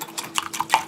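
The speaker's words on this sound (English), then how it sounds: "Whisk this together." A small whisk beats salad dressing with Dijon mustard in a bowl, producing a quick series of close, light clinking strokes against the sides in a brisk rhythm.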